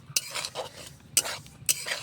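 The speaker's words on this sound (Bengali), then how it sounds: "আস্তে আস্তে নাড়াচাড়া করে সুজিগুলো লাল করে ভেজে দেব" Semolina being stirred and fried in a wok, with three sharp scraping strokes of a spoon against the pan over a faint, steady sizzle, close and clear.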